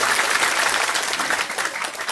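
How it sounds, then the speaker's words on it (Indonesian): Steady, dense applause from a crowd at an Anwar Zahid comedy stage sermon in Indonesia, continuous and fairly loud throughout with no talk over it. "Tepuk tangan"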